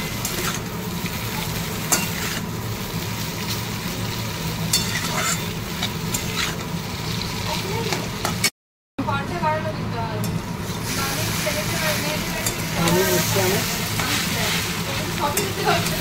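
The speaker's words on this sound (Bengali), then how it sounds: "আলু পেঁয়াজ করে যখন লাল লাল করে ভাজা ভাজা হয়ে গেছে, এতে আমি দিয়ে দেবো চাউমিন।" Chowmein being stir-fried in a pan with browned fried potatoes and onions, a constant close sizzle broken by scraping stirs, with a brief cut near the middle and a voice talking at times.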